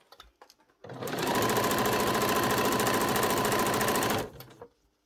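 A sewing machine runs in one long, steady burst while stitching the bottom hem of a school blazer, a dense rapid whir that starts abruptly, holds for about three seconds and winds down, with a few light clicks before and after.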